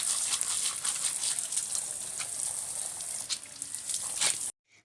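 Water splashing and trickling steadily as something is washed outdoors by a paddy field, a continuous near wash that stops abruptly at the end.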